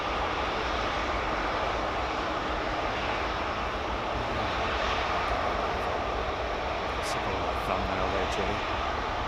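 Heavy jet airliner departing London Heathrow Airport gives a continuous, broad engine roar, steady and moderately distant, with people talking over it.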